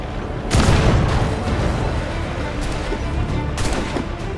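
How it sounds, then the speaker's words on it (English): Cannon-like gunfire from a ship's swivel gun in Assassin's Creed 4 Black Flag, with a loud booming blast, then two more sharp shots amid rumbling naval battle noise. "the swivel gun is very efficient"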